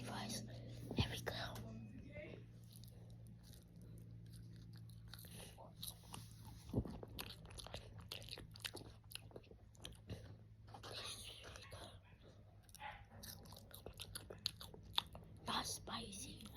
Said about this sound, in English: eat your french fries